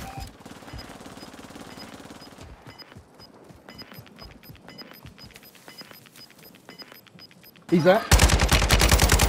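Bursts of AR 7.62 rifle fire crackle through a video game firefight, rapid sharp shots in uneven volleys over several seconds, with a short spoken line; a loud burst of noise closes the clip.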